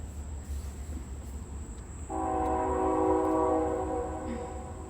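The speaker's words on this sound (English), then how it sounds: "There's our lovely train coming through again." A train passes nearby, a low rumble building before a long sustained horn blast sounds for a couple of seconds and then fades, with no talking.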